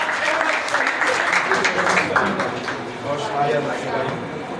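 Applause from an audience at an Urdu poetry mushaira swells as a broad steady wash of clapping, with a voice speaking over it throughout.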